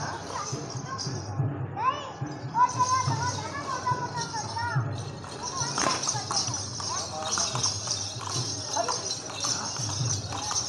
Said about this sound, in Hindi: ये घोड़े को जो ना वो रिहर्सल कर रहे हैं